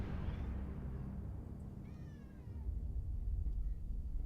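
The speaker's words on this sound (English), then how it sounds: "I don't know if you guys can hear her screaming. My cat." A pet cat gives a drawn-out, wailing meow somewhere in the background of a home, faint beneath a steady low hum, with no talking.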